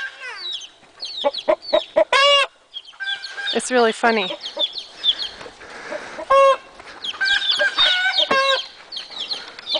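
A rooster named Ole and his hens cluck and squawk busily in a chicken pen, close by, in quick irregular bursts with a few longer calls. A person speaks briefly among the birds.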